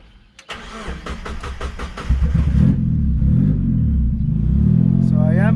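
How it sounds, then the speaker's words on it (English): A Mazda Miata fitted with RX8 fuel injectors cranks with a few rapid starter whirs, then catches and settles into a loud, steady idle with slight revving, close to the microphone, with a voice briefly audible. "So we're gonna actually turn on the car."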